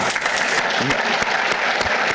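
Audience applause during naval leadership remarks to a surface navy association, a steady, full wash of clapping from a large crowd, loud and sustained throughout.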